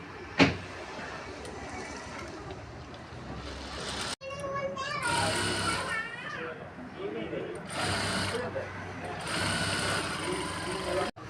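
A sewing machine stitches the side of a saree blouse lining in two loud, fast whirring runs separated by brief pauses, close by, with faint children's voices in the background.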